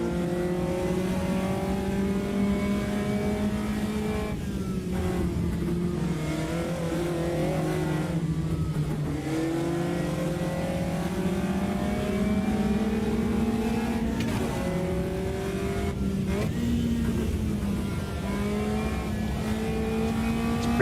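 Race car engine in the sim racing game Automobilista 2 on a modded track, revving loudly and continuously with rising and falling pitch through gear changes, some tire squeal, no talking.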